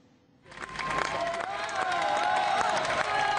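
Applause and crowd noise as anti-gay-marriage activists walk out of a police station, a burst of clapping and cheering that starts abruptly and continues steadily at a moderate distance.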